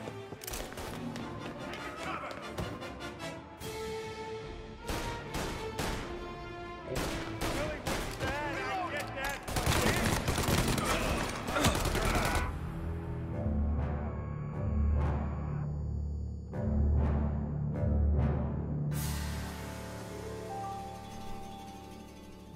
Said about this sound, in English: give me the Tommy gun